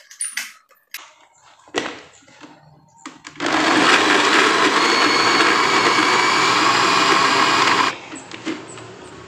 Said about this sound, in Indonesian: Kita blender sekarang.